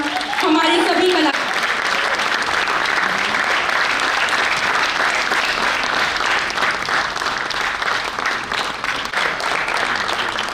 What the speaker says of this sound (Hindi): तालियों की गड़गड़ाहट रुकनी नहीं चाहिए।